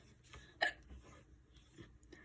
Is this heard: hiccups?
yes